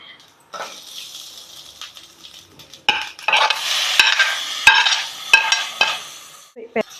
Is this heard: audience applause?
no